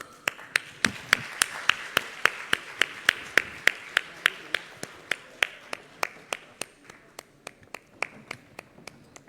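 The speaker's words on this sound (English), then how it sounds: "please welcome them with a huge and warm round of applause" Forum audience at the ASEAN Future Forum 2026 welcomes the AFF Youth Fellows with sharp, evenly spaced rhythmic claps, about three per second, over a faint hall murmur.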